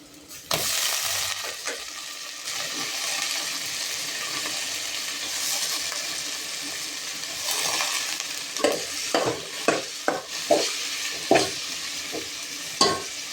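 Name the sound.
prawns (shingti) frying in a pan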